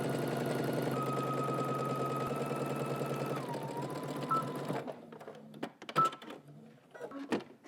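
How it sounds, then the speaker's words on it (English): A sewing machine stitches a side seam on a garment at a 5/8-inch seam allowance, a close, steady mechanical whirr for about five seconds, then stopping, followed by a few soft handling clicks and rustles. "you're going to stitch all the way up to the waist using 5/8 of an inch seam allowance"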